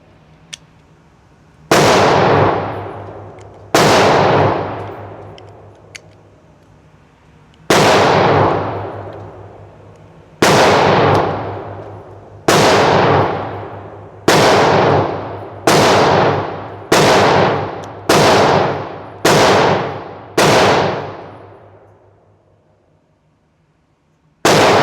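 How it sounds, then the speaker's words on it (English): Ten loud gunshots from a Glock 31 Gen4 pistol at a shooting range, fired one at a time with slightly irregular spacing that tightens toward the end, each crack trailing off in a ringing decay. "So this last couple of mags, I'll be shooting."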